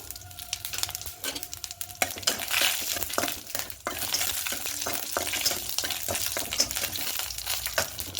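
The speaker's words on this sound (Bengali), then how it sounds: "কালো সর্ষে দেব হাফ চামচ মতো আর এখানে দুটো শুকনো লঙ্কা আর পাঁচফোড়ন দেব" Black mustard seeds, two dried red chilies and panch phoron sizzle and crackle in hot oil with a steady, close frying hiss. A utensil stirs and taps the pan now and then.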